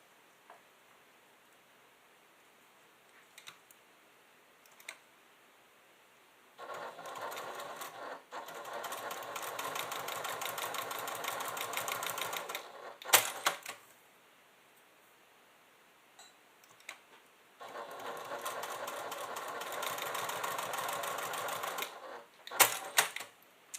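A sewing machine top stitching a leather clutch runs in two sustained bursts of rapid, even needle chatter, each several seconds long, separated by quiet pauses with small handling clicks.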